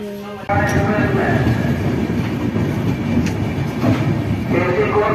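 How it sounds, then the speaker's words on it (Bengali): Purulia-Howrah Superfast Express train pulling out, with a loud steady rumble of wheels and carriages rising abruptly and rolling on close by, a few rhythmic clacks within it. "ট্রেন ছেড়ে দিয়েছে"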